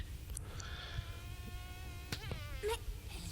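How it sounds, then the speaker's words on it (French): Mosquito buzzing close by, a thin high steady whine that wavers in pitch and drifts across a few seconds, with a couple of brief clicks near the end. "C'est un moustique ça plutôt."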